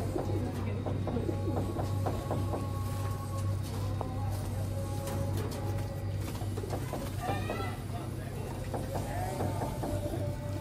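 Golden Ferozpuri pigeons coo in repeated soft calls over a steady low hum and background noise, with people talking nearby.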